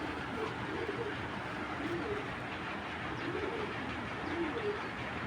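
Racing club pigeons coo in soft, repeated rolling phrases, close by, over a constant rumbling background noise.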